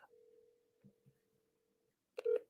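A steady single-pitch ringback tone sounds as a phone call waits to be answered, running for nearly two seconds, then a sharper burst of tones follows near the end, with quiet low thumps partway through.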